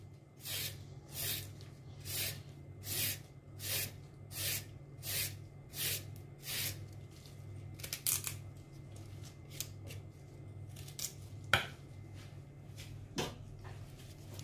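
A carrot being chopped into tiny pieces with a knife, giving a steady run of sharp, close cutting taps against a board that thins into scattered clicks toward the end, with no talk.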